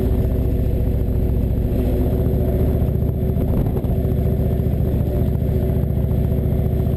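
An Indian Chieftain motorcycle under way, its engine droning steadily and loudly with a low rumble throughout, wind and road noise mixed in.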